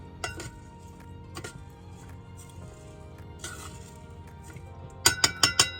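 A spoon stirring spice into a bowl, quiet scrapes and a few clinks early on, then a quick burst of four bright metallic clinks near the end, no voices.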